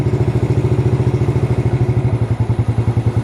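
A motorcycle with no battery fitted, kick-started and running normally, idles with a steady, rapid thumping pulse that is loud and close and carries on throughout with no talk.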